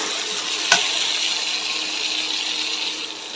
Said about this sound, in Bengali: এখন হচ্ছে মশলার সাথে চাল আর ডাল ভালোভাবে মিক্স করে নেব